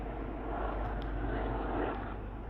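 A helicopter passes overhead outdoors, a loud continuous rumbling engine roar that holds steady for a couple of seconds with no talking over it.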